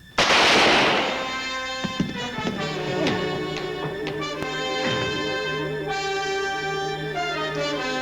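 Several sharp gunshots fired at a person in a TV comedy sketch, cracking out one after another at irregular intervals, with a tonal music score running underneath.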